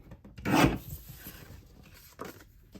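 A paper trimmer slices through cardstock in one quick rasping stroke, followed by a fainter scrape near the end; close and fairly quiet, with no talking.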